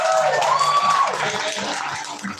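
Crowd at an improv comedy songwriting show breaking into applause with some cheering and whistles, a warm roomful of clapping that tapers off slightly over a couple of seconds.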